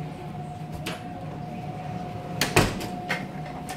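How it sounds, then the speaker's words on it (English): A door being pulled shut indoors, a single short knock-like thump with a faint latch rattle midway, followed by a lighter tap, over a steady background hum. "I'm gonna close the door, guys."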